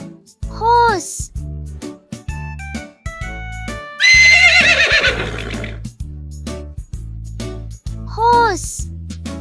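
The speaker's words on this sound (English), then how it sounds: "Horse." A horse gives a loud, shrill whinny with a quavering, descending neigh in the middle, surrounded by someone speaking briefly and steady background music.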